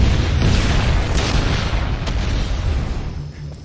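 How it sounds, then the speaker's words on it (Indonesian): A bomb blast in an action film about a Muay Thai master fighting gangsters: a sustained, heavy rumbling boom with no speech, loud and broadband, slowly fading after a few seconds. "Bai An meledakkan bom yang ia pasang untuk menghabisi anak"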